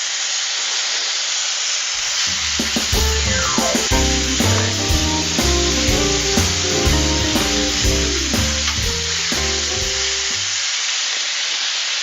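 Marinated chicken pieces land on an oiled flat-top grill over low heat, setting off a loud, steady sizzle and hiss that swells with crackling pops and continues without any talking.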